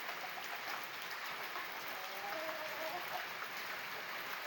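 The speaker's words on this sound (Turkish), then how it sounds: "Çok güzel yağmur yağıyor" Steady broadband patter of rain falling, a constant hiss with no pauses and no voices.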